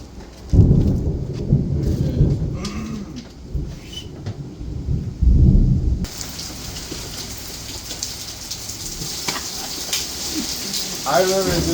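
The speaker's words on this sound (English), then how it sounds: "It's sprinkling now, and it's about to be downpouring in just a second." Thunderstorm with heavy rain over an outdoor job site: deep rolling thunder rumbles twice, then dense, loud rain hiss takes over and keeps going steadily, with a brief voice near the end.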